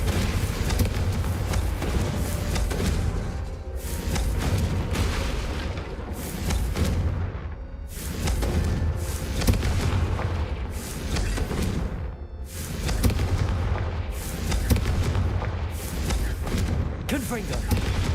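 Confringo fire spells blast repeatedly in the video game Hogwarts Legacy, heavy booming bursts arriving every couple of seconds over continuous rumbling game noise.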